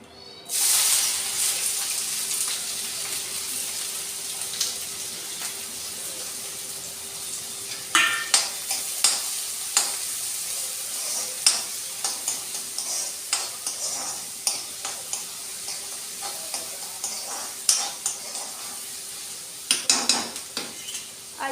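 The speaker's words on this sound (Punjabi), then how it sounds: "ਸੋ ਆਪਣਾ ਤੇਲ ਆ ਜਿਹੜਾ ਗਰਮ ਹੋ ਗਿਆ ਸੋ ਆਪਾਂ ਜਿਹੜੇ ਪਿਆਜ਼ ਨੇ ਵਿੱਚ ਐਡ ਕਰ ਦੇਣੇ" Onions hit hot oil for a village-style capsicum curry, a steady close sizzle with frequent spoon and pan clinks scattered across it and no talking.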